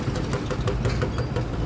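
A motorbike engine idling before riding off, a close steady rumble with a faint rhythmic ticking pulse running through it, and no talk over it.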